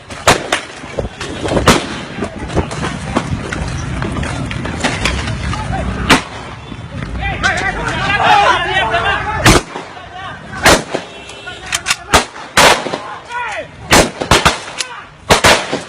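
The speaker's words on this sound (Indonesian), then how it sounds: "polisi-polisi lain mencoba menghentikan Emokren dengan menembakkan peluru karet." Rubber bullets fired by police at a violent foreigner in Bali crack out as sharp, loud shots, scattered singly and in quick bursts over a noisy, rumbling scene with raised voices.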